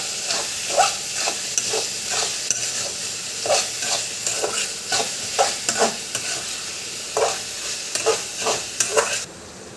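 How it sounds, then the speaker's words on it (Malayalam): Coriander leaves, curry leaves and green chillies sautéing in a hot pan, a steady sizzle broken by regular scraping strokes of a spoon stirring them, close and clear with no talking. "മല്ലിച്ചപ്പ്, കരിവേപ്പില, പച്ചമുളക് എല്ലാം ഒരുമിച്ചിടാം. എന്നിട്ട് ഒന്നും കൂടി വാട്ടി കൊടുക്കാം."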